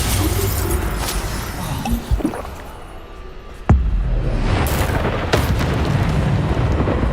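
Bombarda spell blasts in the Hogwarts Legacy video game, a booming explosion with rumbling crackle amid continuous noisy battle effects, followed by a second sharp burst and sustained roar.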